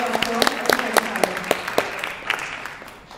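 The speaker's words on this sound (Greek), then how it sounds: "Ένα χειροκρότημα παρακαλώ" A seated audience at a book presentation in Ierapetra gives a brief round of sparse applause, with individual claps distinct and fading out after about three seconds.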